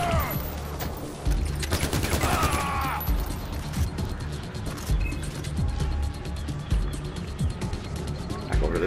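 Far Cry 4 video game machine gun fire crackles in rapid, sustained bursts with mechanical rattling layered throughout, close and dense, while a voice talks over the action.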